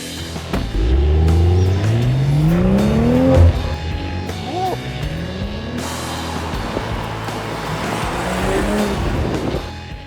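BMW M340i xDrive sedan with a 3-litre six-cylinder engine revving hard, its note climbing in steep rising sweeps through gear changes, loud and close, with a brief tyre squeal.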